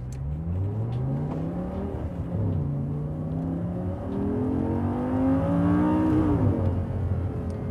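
An Audi R8 GT with an automated manual gearbox, in Sport mode with ESP off, accelerates away on the Blyton Park circuit, its engine climbing in pitch through several gear changes, loud and close, with no talking.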